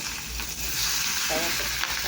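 Fish frying in oil in a pan gives a steady, close sizzle with crackling that holds throughout and has no voices over it.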